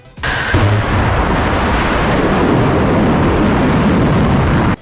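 A loud, sustained roar of missile explosions in Haifa, Israel, rumbles continuously after a sudden onset, dense and booming, with no speech.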